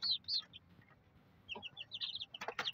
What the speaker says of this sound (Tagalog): Yan yung ating mga pasisiw.